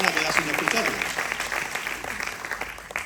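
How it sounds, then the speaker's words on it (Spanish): An audience at a pastoral conference claps, a steady patter of many hands throughout with a voice speaking over it. "Un aplauso para ellos, también para la gente de Fuerteventura y Lanzarote."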